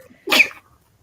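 A single short, forceful sneeze bursts out nearby, lasting under half a second against near silence.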